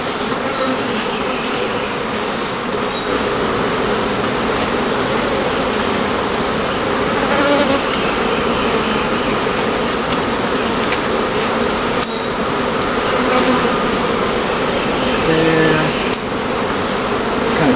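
A honeybee swarm hums in a dense, steady drone throughout a hive rescue, loud and close, with individual bees buzzing past now and then over the continuous mass of wings.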